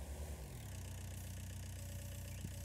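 Tractor engine idling in the farming video game Landwirtschafts-Simulator 19, a steady low rumble at moderate level with a brief falling tone early on, no speech.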